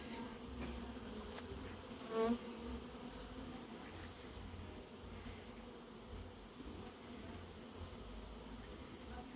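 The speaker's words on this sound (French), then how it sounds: "Un frelon qui vit en plein milieu des abeilles." Steady buzzing of many honeybees in an apiary, faint and continuous, with one louder hornet buzz passing close for a moment.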